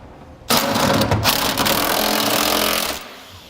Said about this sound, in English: Then we'll tighten up the center bolts on the mounting rails.